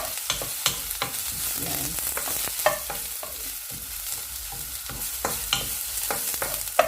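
Garlic sizzling in a hot pan for a vegetable and egg noodle stir fry, a constant bright frying hiss broken by repeated scraping and clinking as a utensil stirs against the pan, with a brief word spoken.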